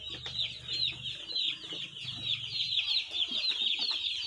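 Newly arrived chicks, a batch of 450, peep constantly in a high, dense chorus that continues steadily throughout, with lower fowl clucking mixed underneath.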